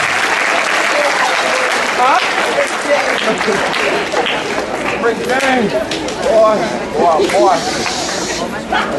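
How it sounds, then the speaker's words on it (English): Audience applause at a high school Veterans Day program honoring faculty and staff veterans, a broad, hissy wash of clapping that continues under voices and cheering throughout. "Y'all give all of these members of our faculty and staff a big round of applause."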